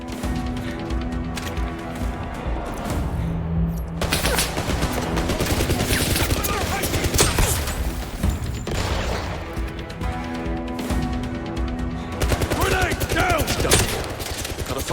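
Gunfire in the video game 007 First Light: dense, continuous bursts of automatic shooting and impacts, loud and close throughout, with game voices calling out among the shots.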